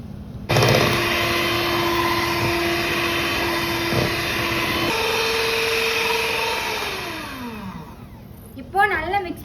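An electric hand mixer whirs steadily as it beats sponge cake batter, a loud continuous drone that shifts pitch partway through and winds down near the end, with a brief voice at the close.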